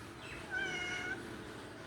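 A house cat gives a single drawn-out meow at moderate distance indoors, rising briefly above a quiet room hum with no talk.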